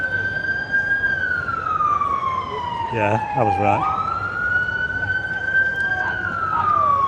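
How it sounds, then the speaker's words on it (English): A wailing ambulance siren sweeps up and down nearby on a Blackpool street, loud and steady, with a brief spoken remark over it and a short chirping burst midway. "That's the sound of an ambulance."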